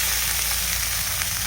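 Chopped tomatoes frying with ginger in a pan, giving a steady, close, dense sizzle and crackle with no talk over it.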